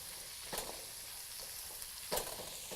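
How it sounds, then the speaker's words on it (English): Onions sauté in a wok with a quiet, steady sizzle, broken by a couple of brief louder clinks or stirs. "we're going to saute these real quick in our wok"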